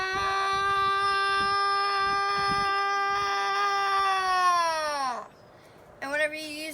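A person's voice imitates an animal's howl call: one long, loud, sustained tone that slides downward and fades out near the end, then a short rising call after a brief pause.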